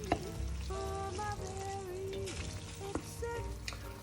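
Bell peppers frying gently over low heat in a pan, a soft continuous sizzle with quiet crackles and scrapes of a wooden spatula stirring, faint and close.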